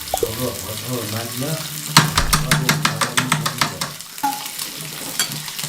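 Steak sizzling in a pan with olive oil and butter, a steady fry hiss under a voice at the start, then a run of quick regular scraping or basting strokes close by.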